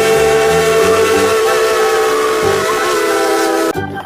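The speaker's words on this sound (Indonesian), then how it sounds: "Wahai, kereta api lokomotif teman-teman." A toy steam locomotive whistle sounds loud and steady, holding a bright, hissing, multi-tone note for about four seconds before it cuts off abruptly, while a low rhythmic pulsing runs underneath.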